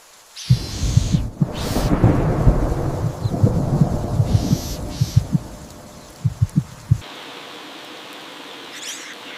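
A summer thunderstorm: deep rolling thunder rumbles over a steady wash of rain, loud and close at first, then a few sharp cracks before the thunder fades into softer rainfall.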